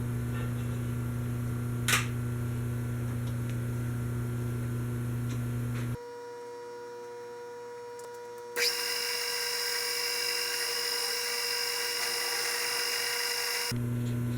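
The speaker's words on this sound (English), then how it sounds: "I'll start by milling the end off." A milling machine grinds off the end of a frozen axle bolt on a Wheel Horse 401 tractor with a sustained whine and hum that briefly changes pitch partway through, then resumes loud and steady, with no voices.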